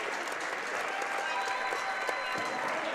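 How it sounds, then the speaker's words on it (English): A crowd at a Mepham versus Jericho girls basketball game applauding in a school gym, steady dense clapping with scattered shouts throughout, moderately close. "Nice ovation there from the Mepham Pirates and the Mepham crowd here in attendance tonight."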